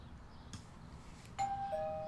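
A house doorbell in Beyond Two Souls, heard as a clean two-tone ding-dong near the end after a couple of soft knocks or clicks, moderately loud with no talk.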